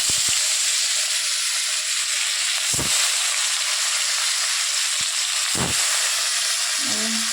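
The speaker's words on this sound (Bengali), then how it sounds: "এবার মাছটা ভেজে নেব।" Fish frying in hot oil gives a steady, bright sizzle throughout, with a few short clatters and bumps from the pan along the way.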